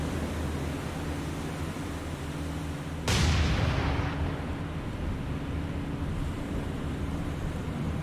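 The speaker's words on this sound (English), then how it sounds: "Don't get to see the Fletchers fire very often" A Fletcher-class destroyer's guns fire once in a naval battle game, a sudden loud broadband blast at about three seconds that decays over a second, set against a steady rumble of sea and engine noise with no talking.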